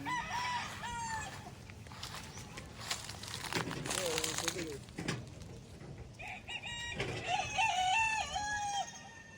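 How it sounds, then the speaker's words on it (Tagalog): Chickens, several of them hens, cluck and call nearby in a farmyard, with rustling and crinkling mixed in. A person talks intermittently over the birds throughout. "Dami o mga inahin lahat to,"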